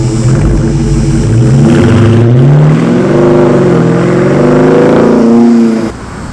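A 2020 Dodge Challenger R/T with a Hemi V8 muscle-car engine revs loudly and close, its deep exhaust rising and falling through several throttle blips before easing off near the end.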